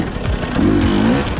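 A dirt bike engine revs hard while riding gnarly hard enduro terrain, a loud, close, buzzing roar that rises and falls in pitch over a brief moment.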